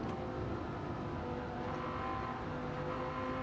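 A Dodge Viper SRT10 coupe engine accelerates in third gear in Gran Turismo 7 on Tokyo Expressway, a dense, steady, loud engine drone and whir filling the whole stretch, with no talking.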